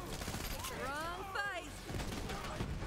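Rapid gunfire from a weapon in the shooter game Borderlands 3, a burst of overlapping shots mixed with swooping electronic tones and game effects, fairly loud and continuous for a few seconds.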